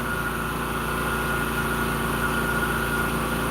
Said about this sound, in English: there goes the compressor